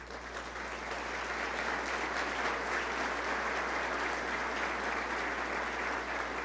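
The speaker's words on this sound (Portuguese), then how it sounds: "Dá um forte aplauso." A steady round of strong applause from a gathering of pastors and leaders welcoming a visiting pastor, many hands clapping in a dense, even roar that builds slightly at the start and holds without voices on top.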